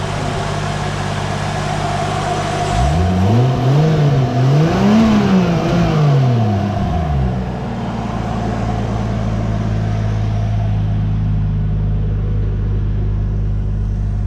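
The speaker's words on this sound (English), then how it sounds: "Sounds good for an engine that's set for a while" A nearby Mk3 Toyota Supra engine revs up and down several times in quick succession, then settles back into a steady idle.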